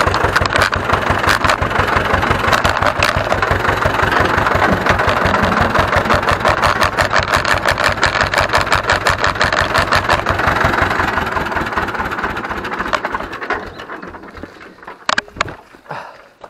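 An Ursus C-360 tractor engine runs while reversing, a loud rapid mechanical knocking pulse that holds steady for most of the time, then fades and sputters toward the end.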